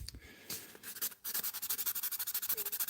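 Fine 800-grit sandpaper worked by hand along the sides of a custom guitar pick, a close, quiet series of quick, even rubbing strokes that settles into a steady back-and-forth rhythm.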